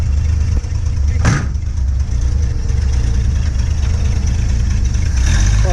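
A 1950 Chevy car engine runs with a steady low rumble, close and loud, with a single sharp bump early on and no talking.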